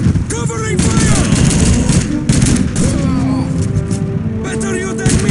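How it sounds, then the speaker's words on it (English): Gunfire in a Call of Duty 2 battle: continuous rattling rifle and machine-gun bursts with explosions, loud and dense, while soldiers shout over the din. "Covering fire!"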